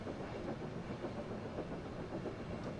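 Thomas the Tank Engine running at speed in Train Sim World 5, a steady rolling rumble with rhythmic clickety-clack of wheels over rail joints, continuous and fairly loud with no talk.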